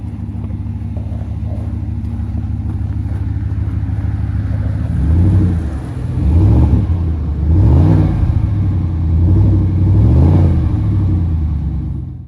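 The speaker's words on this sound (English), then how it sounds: "I'll raise the revs a little bit just so you can hear the exhaust" A 2017 GMC Sierra Denali 1500 4WD with a 6.2 V8 and Borla exhaust idles with a deep, loud rumble, then gets four or five short throttle blips that rise and fall in pitch, close up and without talking.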